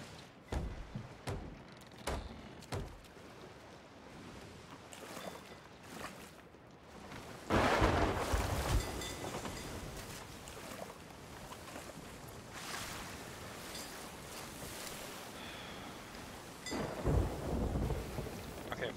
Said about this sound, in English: Fuzzy, I'm pretty sure you're sailing into the storm.